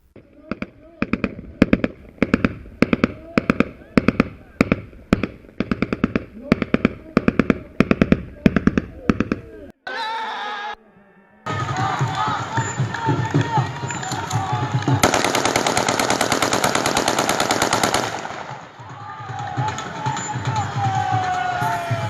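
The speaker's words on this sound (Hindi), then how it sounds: "ज़रा देखें पंजाब का के दो हलके जो हैं वहाँ पर फायरिंग किस खुलेआम तरीके से हो रही है" Rapid, loud bursts of gunfire ring out in repeated volleys during an election campaign in Punjab, followed by a noisy crowd with shouting and cheering.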